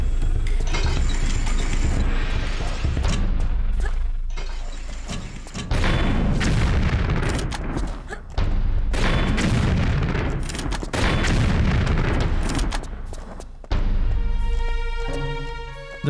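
Rocket launcher blasts in Tomb Raider 3 at the Lost City of Tinnos, four loud booming explosions spaced a few seconds apart over music, ending in a ringing metallic tone.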